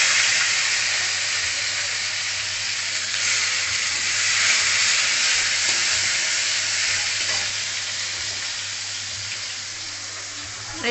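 Chopped tomato hits a hot pan with bay leaf and garam masala for a brinjal curry, giving a steady, loud frying sizzle that holds continuously for about eleven seconds with little variation.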